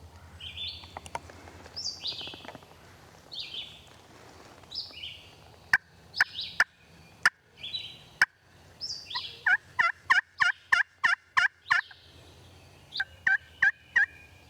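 Wild turkey gobbling in timber ridges: a series of gobbles, distant at first, then sharp, evenly spaced bursts crowd together and repeat through the last seconds, with no one talking.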